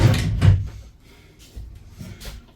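Two wooden drawers in a homemade teardrop camper interior slide and knock shut, giving a couple of close, hollow thumps with softer scraping movement after.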